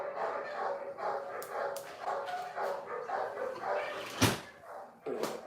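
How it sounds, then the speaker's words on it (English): Several dogs bark repeatedly at moderate distance, with irregular yips and barks overlapping, and a sharp close knock near the end. "You hear the fucking dogs?"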